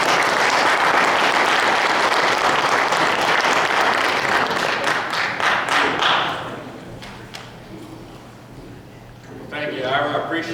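Audience at a high school football banquet gives loud, sustained applause for Coach Harold Nichols, dense clapping that fades over several seconds before a voice begins near the end.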